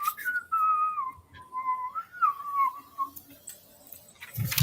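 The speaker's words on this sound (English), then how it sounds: "you can hear someone whistling in the garden somewhere" A person whistles a wavering, melodic tune somewhere in a garden, a clear thin whistle sliding up and down for about three seconds, followed by faint ticking and soft rustling.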